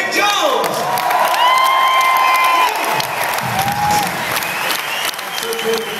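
An arena concert crowd at the SECC in Glasgow applauds and cheers loudly for a guitarist's introduction, with dense clapping, whoops and shouts, and a voice over the PA at times.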